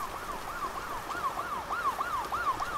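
A police siren in the horror video game Night Maniac wails in rapid, regular yelping cycles, heard fairly faintly and steadily with no talking over it.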